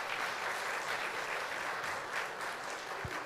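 A church audience applauds throughout, a steady, even wash of many hands clapping at a moderate distance, with a single low thump near the end.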